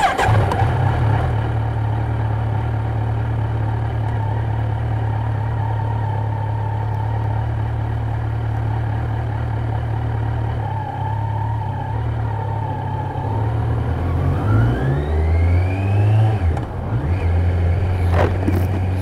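A 2020 Kawasaki Z900 idles with a steady, loud, deep thrum, then revs and pulls away as the engine note rises and shifts through gears, heard close up throughout.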